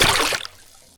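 A fish slips back into open water with a short, loud splash and slosh, then a quieter trickle of dripping water fades out over the second.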